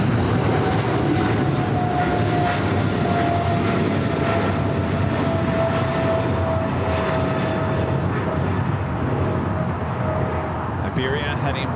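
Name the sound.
Iberia airliner departing LAX for Madrid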